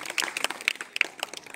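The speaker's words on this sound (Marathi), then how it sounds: "बरं या सरांसाठी एकदा टाळ्या" A classroom of students claps briefly for a teacher, a short ragged patter of quick hand claps at close range, fairly faint with no talk over it.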